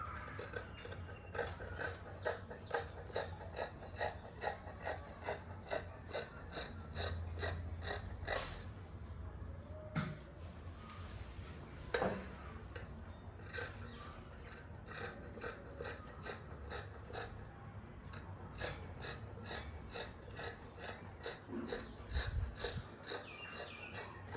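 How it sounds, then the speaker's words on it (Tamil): Scissors cut through cloth for a dress, giving a quiet run of short crisp snips at a fairly regular rhythm, with a few brief pauses and soft rustling of fabric close by. "இப்போது இதை நம்ம கட் பண்ணிடலாம்"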